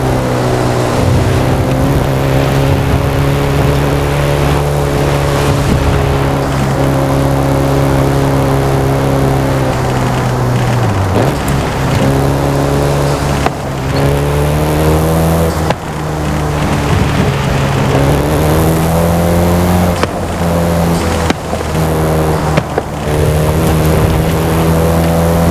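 A Volkswagen Golf GTI in Forza Horizon 5 drives hard, its engine roaring loudly and continuously with rising revs and brief dips at gear shifts, close and dominant with no talk.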